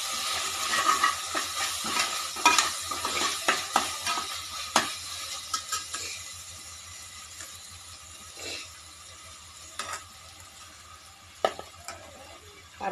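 Tomatoes and green chillies being sautéed in a pan with rock salt for a vegetable biryani, a steady soft sizzle beneath a run of scraping spoon strokes and clinks that are busier at first and thin out later.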